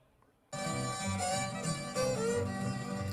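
Solo fiddle starts abruptly and plays a short bluesy phrase with sliding notes, clear and close, no talking over it.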